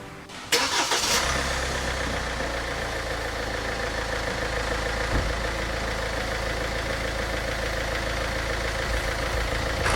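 A Kia Carnival raised on a workshop lift during an automatic transmission oil change cranks briefly and catches, then settles into a steady, close, even idle hum that continues unbroken.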